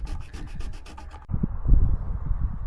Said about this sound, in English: Looks like you got the paint sanded off pretty